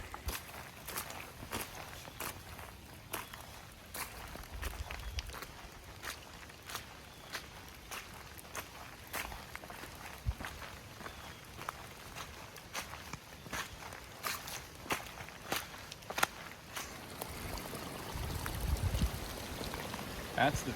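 Footsteps crunch along a hiking trail in wet, windy, rainy weather, steady paced strides under a constant wash of wind and rain, fairly quiet and close.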